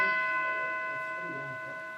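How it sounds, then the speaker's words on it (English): A single gong struck during a meditation retreat rings out with a steady shimmering tone that slowly decays, sustained and alone without talk. "again hit the gong"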